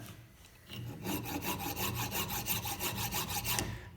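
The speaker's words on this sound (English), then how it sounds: "I'm going to file across there." A file is drawn across an acrylic mould pattern for die casting held in a vise, giving steady rhythmic rasping strokes, about a dozen in quick succession, close and clear with no talk.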